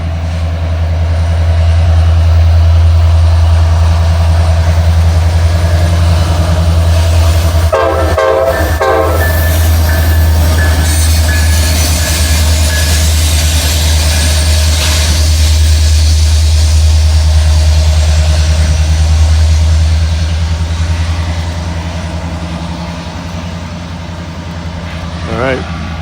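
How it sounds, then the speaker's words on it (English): A long train comes down the grade at Horseshoe Curve: a heavy, continuous diesel rumble, a short horn blast early on, then the roar easing off near the end. "I think we got a train getting ready to come down the hill."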